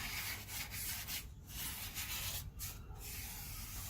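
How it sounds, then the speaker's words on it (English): Steady rough rubbing of sandpaper across a surface, continuous with brief pauses between strokes, close and fairly quiet. "turn them over, give them a bit of a sand, and do the other side"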